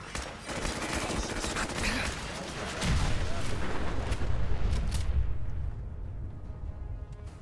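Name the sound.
explosions in video game Fallout 4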